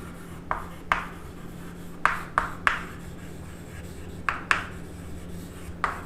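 Chalk or marker strokes on a board during a Hindi electrical engineering lecture on single-phase transformer efficiency, about eight short scratchy taps and strokes in irregular bursts over a steady low room hum, close and moderately quiet, with no talking.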